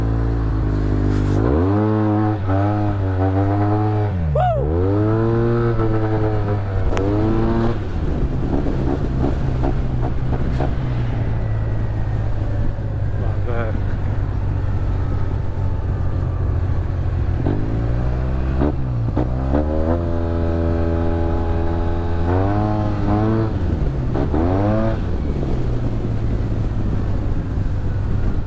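Yamaha TMAX 560 scooter engine while riding through town, a steady low drone with rising and falling revs as the rider accelerates and eases off, continuous and close with wind rush over the microphone.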